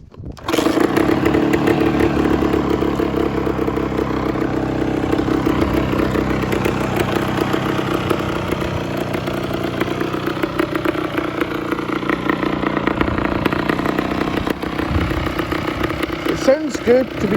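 A rusty, weathered two-stroke motorcycle with dead electrics starts up in a sudden burst, then idles loudly and steadily at close range with a buzzing, chainsaw-like rattle; talk is heard over the engine.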